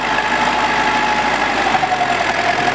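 A tractor engine runs steadily and loud at close range with a low, even mechanical drone and faint knocking as the clutch is eased out slowly.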